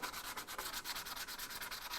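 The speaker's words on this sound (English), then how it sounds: "I'll hit it with an 80 grit to knock it back" Steady abrasive rasping of 80 grit sandpaper on an engine bay, quick back-and-forth strokes in a fast even rhythm, close and continuous.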